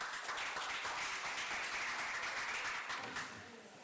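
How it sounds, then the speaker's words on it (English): Applause from the audience at a hackathon pitch session, a dense steady wash of clapping that carries on throughout and fades slightly near the end. "So, round of applause."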